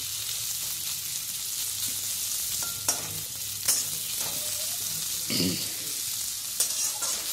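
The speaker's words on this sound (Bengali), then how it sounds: "খুব ভালো করে আমি খুন্তি দিয়ে নেড়ে পেঁয়াজগুলো খুব ভালোভাবে সোনালি যখন হয়ে যাবে ততক্ষণ পর্যন্ত ভেজে নেব।" Onions frying in hot oil while a metal spatula stirs them, with a continuous close sizzle broken by occasional sharp scrapes and clanks against the pan.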